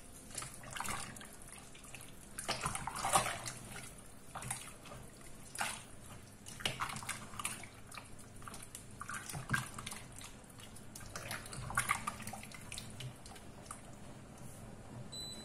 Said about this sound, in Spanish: Que hierva todo.